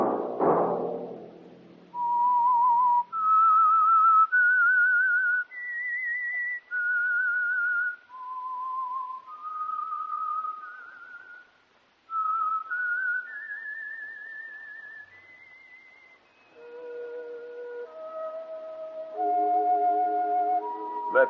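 Solo whistled theme of The Whistler radio mystery program, a slow, eerie melody of sustained, clear notes rising and falling, played alone and close, closing with a few lower orchestral tones.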